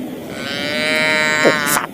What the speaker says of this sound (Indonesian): Ini sapi.